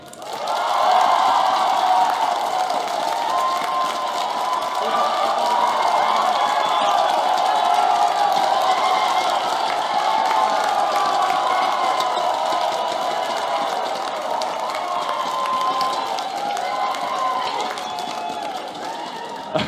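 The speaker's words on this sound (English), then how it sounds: "clap for like 5-10 seconds" A large crowd at an esports playoff event claps and cheers together on cue, a dense, loud roar of applause and shouting that holds steady for nearly twenty seconds before easing slightly at the end.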